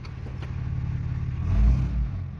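A 4th gen Ram 2500 truck engine revs briefly against an engaged parking brake, a low, close mechanical rumble that swells once and then settles.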